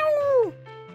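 A cat named Bruce lets out a single close, loud, drawn-out meow that bends downward in pitch, then trails into a quieter whine under a low background hum.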